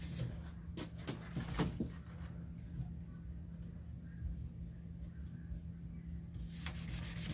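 Sandpaper on a block is rubbed back and forth over a firearm's finish in quick, faint strokes, with a cluster of scrapes early on and a few more near the end.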